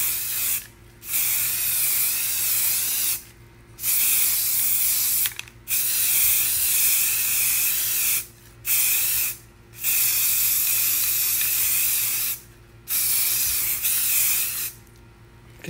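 Spray paint being applied in coats to a metal item during restoration, heard as loud, steady hissing bursts of several seconds each, separated by brief pauses, with six bursts in all.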